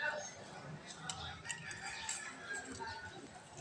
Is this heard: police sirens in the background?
no